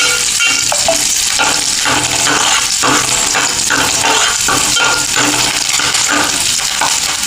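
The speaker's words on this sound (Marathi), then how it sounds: "फोडणीला मी कढीपत्ता, कांदा आणि लसूण दिलेली आहे" Curry leaves, onion and garlic sizzle in hot oil as a tempering for a spicy Malvani mackerel curry: a loud, steady, close crackle that lasts throughout, with faint stirring clicks on top.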